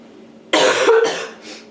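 A single harsh cough bursts out, followed by a shorter rasping catch and a faint throat-clearing tail, close and loud against a quiet room.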